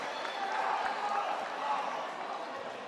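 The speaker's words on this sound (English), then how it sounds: "Just great to hear the crowd, isn't it?" Crowd noise fills a high school boys basketball gym during a St. Joe versus Marian game, a steady murmur and cheer running under close commentary talk.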